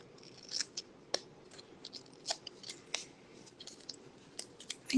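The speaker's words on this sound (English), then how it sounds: "I think I'll cut this white part" Scissors snipping paper craft material, a string of short, crisp cuts at irregular intervals, close and quiet with no voices.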